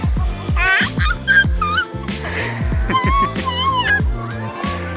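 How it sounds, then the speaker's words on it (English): Several geese or ducks honk and quack loudly and close by in rapid, overlapping calls, with a voice briefly audible among them. "Is that your quack quack noise?"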